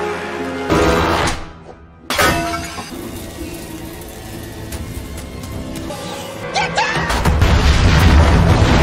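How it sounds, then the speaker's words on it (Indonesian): A heavy boom bursts out, then cuts to near silence before a crash as a van overturns and a long rumbling, clattering aftermath swells toward the end. "akibat ledakan tersebut, mobil van pun terguling dan Stephanie yang masih terjebak"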